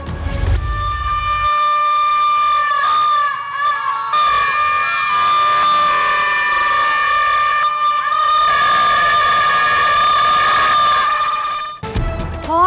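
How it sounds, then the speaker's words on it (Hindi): Vehicle horns blare at a protest press conference, with several sustained overlapping horn tones sounding together loudly and almost continuously before cutting off near the end. "जनरल सेक्रेटरी नईम मीर की हॉर्न बजाकर अनोखी प्रेस कॉन्फ्रेंस"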